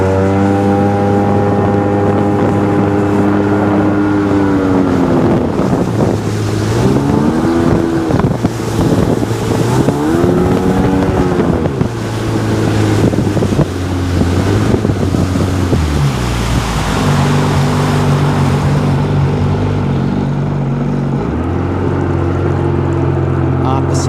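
A 2002 Sea-Doo GTX DI personal watercraft engine idles loud and close with a steady drone that wavers in pitch, under wind and water noise.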